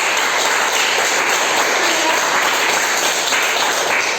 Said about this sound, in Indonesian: Tepuk tangan untuk Manda.